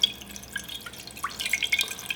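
Water drips and patters off a suede shoe treated with water repellent, a few small close droplet impacts scattered over a couple of seconds, fairly faint.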